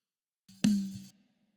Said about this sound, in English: So that's the original tom, the high tom.